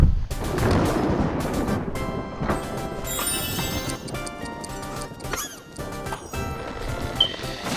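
Stormy game soundscape from the Storm level of the 2013 Castle of Illusion remake starring Mickey Mouse, with steady rumbling noise, crashes and a string of bright effect hits over music.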